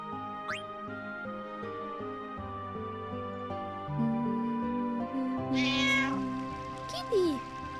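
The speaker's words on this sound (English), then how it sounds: "I hear my Vivi, my cats, doing the mrik, mrik, mrik." Cats meow in short, rising calls over steady game music, loudest near the middle of the passage, with a final drawn-out meow toward the end.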